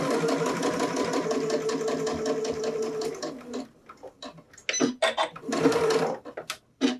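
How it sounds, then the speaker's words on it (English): A sewing machine runs a straight stitch along a drawn line on a reusable flower tote, with steady rapid needle clatter for about three seconds, then short stop-start bursts for back-stitching at the seam end. "I have my machine set up with a straight stitch, and I'm going to stitch right along that line that I drew."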